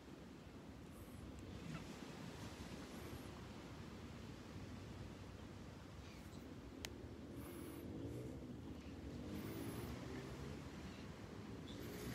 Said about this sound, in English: Little breeze, the sea oats blowing in the breeze.